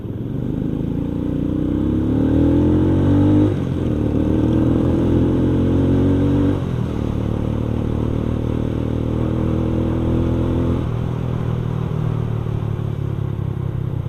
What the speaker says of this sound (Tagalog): Makasingit naman yung motor na yun.